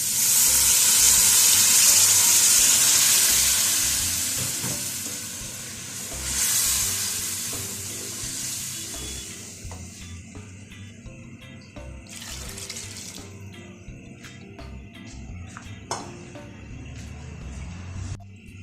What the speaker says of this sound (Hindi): ये हम यहाँ पे हम इसमें ऐड कर देंगे यखनी